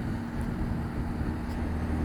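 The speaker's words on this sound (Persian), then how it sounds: "صدای این موتور آنچنان چنگی به دل نمیزنه" A SYM NHT 300 motorcycle engine idles steadily and continuously, a low constant hum with a faint tonal drone, alone with no talk.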